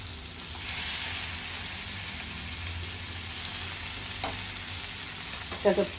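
Potato slices sizzle and fry steadily on a hot tawa, with a few brief scraping clicks near the end as the pieces are turned over.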